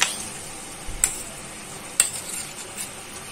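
Grated coconut being stirred in a pan for Konkan coconut barfi, with a soft scraping hiss and two sharp clinks of a spoon against the metal, fairly quiet and close.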